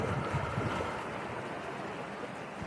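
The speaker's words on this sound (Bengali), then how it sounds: "এই দেখো ট্রলার যাচ্ছে, মাছের ট্রলার।" A fishing trawler motors past on a river, a low, steady engine rumble under broad wash of water and waves, heard from the shore at moderate distance without talk.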